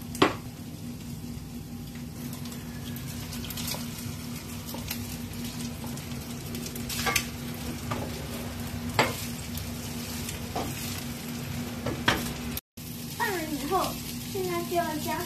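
Golden egg fried rice stir-fried in a wok as chopped scallions go in, a steady close sizzle with spatula scrapes and pan knocks, while an adult and someone talk over it.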